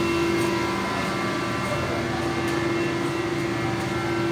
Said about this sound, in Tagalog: So pupokus tayo dyan sa cylinder 5 kasi palyado yung makina